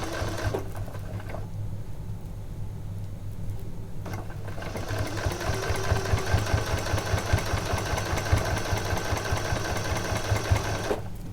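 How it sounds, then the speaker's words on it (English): A Janome sewing machine fitted with a taping guide foot stitches binding along the edge of an item, running with a steady close mechanical whir and rapid needle rhythm, pausing briefly twice before continuing. "the foot is guiding that bind around the edge of my item, and then we are stitching along the edge."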